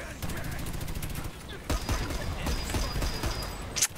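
Gunfire in the video game Dirty Bomb: rapid, close automatic bursts that are steady through the first half, then denser, louder shots with sharp cracks, ending in a loud final hit.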